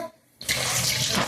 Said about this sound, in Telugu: ఇప్పుడైతే మళ్ళీ చల్లటి నీళ్ళు పడుతున్నాను గుడ్లో